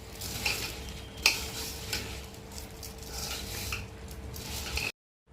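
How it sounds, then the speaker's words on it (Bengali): Rice being mixed by hand with ghee, whole spices, salt and turmeric for a Bengali home-style pulao, giving a steady soft rubbing and stirring texture with one sharp clink of a utensil near the start. "খুব ভালো করে ঘিয়ের সাথে, গোটা গরম মশলার সাথে, নুন হলুদের সাথে চালটাকে দেখুন এইভাবে ভালো করে মেখে নিতে হবে।"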